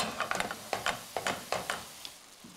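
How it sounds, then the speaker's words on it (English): Raw ground beef being broken up with a spatula in a pan for lasagna: a quiet run of irregular scraping taps and pushes against the pan bottom over a faint sizzle, close by. "I'm gonna break up the meat with my spatula"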